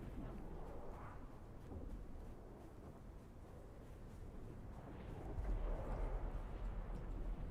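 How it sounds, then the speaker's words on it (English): A spice blow erupts in the desert of the Dune: Awakening video game as a steady, low, roaring rumble that swells louder toward the end, with no voices over it. "Oh, it's a spice explosion."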